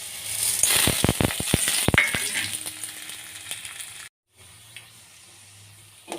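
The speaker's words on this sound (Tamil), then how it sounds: "இதில் எண்ணெய் ஊற்றி நம்ம ஃப்ரை பண்ணி எடுத்துக்கலாம்." Salted moong dal fries in hot oil, giving a dense, close sizzle with a burst of sharp crackles and pops at first that then settles into a softer hiss, broken by a brief silent gap.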